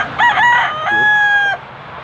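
A rooster crows once, loud and close: a short broken opening followed by a long drawn-out final note, then quiet background.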